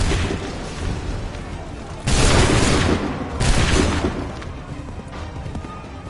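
A loud, dense musket volley rumbles and crashes in an Assassin's Creed 3 battle, with a sustained booming burst midway and a second surge shortly after, over continuous battlefield noise.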